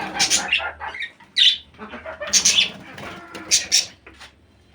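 Budgerigars chirping in a new cage, bright, close, high chirps and warbles coming in irregular bursts with short pauses between them.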